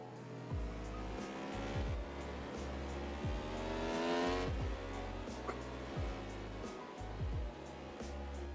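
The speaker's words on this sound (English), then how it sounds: "We can watch there so many cars fly on by" Formula karts scream past one after another at a race, engines rising and falling in quick repeated pass-bys over a steady wash of background noise, each kart loud and close for a moment before fading.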